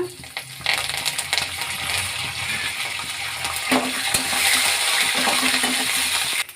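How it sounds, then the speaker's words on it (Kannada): Curry leaves dropped into hot oil for a millet upma tempering, giving a steady sizzle and crackle that builds slightly toward the end, with faint clinks of a pan underneath. "ಈಗ ಕರಿಬೇವಿನ ಸೊಪ್ಪು ಹಾಕೊಳ್ಳೋಣ"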